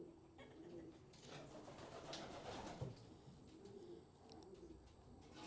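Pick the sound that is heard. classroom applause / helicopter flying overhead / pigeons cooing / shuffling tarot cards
pigeons cooing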